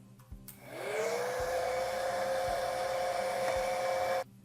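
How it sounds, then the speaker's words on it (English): A heat gun warming metal on a Lee Loadmaster reloading press blows steadily with a whining motor tone after a short click start, running continuously close by and then cutting off abruptly. "take a hair dryer or in this case a heat gun and warm up the metal a little bit"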